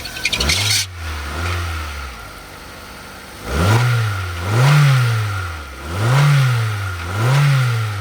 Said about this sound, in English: Engine sounds very, very healthy and strong.